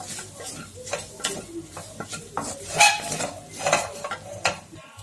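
Spice powders being mixed into a soya chunk cutlet mixture, with repeated scraping and clinking of a spoon against a bowl in uneven bursts, close up and without voices.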